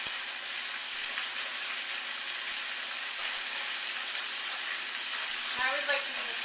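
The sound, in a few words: deep frying Philly fireballs in oil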